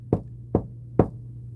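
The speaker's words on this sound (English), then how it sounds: "Let's knock again." Three sharp knocks on a door or wall in a haunted basement, evenly spaced about half a second apart, loud and close over a steady low hum, with no voices.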